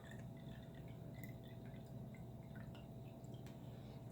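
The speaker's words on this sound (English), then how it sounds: "So I'm draining them into a measuring cup, measuring the water in a cup." Faint, steady trickle of water draining into a measuring cup, with soft drips over a quiet background hum.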